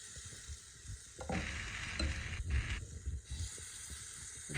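Oats uttapam batter sizzles and fries on an oil-greased pan, a steady close hiss that swells louder partway through, with light scraping in the background.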